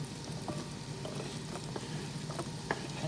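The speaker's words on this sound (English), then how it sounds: "Now I'm adding in the turnips." Turnips tipped into a hot pan with ginger for a Filipino mushroom ginisa, frying with a steady close sizzle and crackle, broken by a few sharp stirring clinks and scrapes.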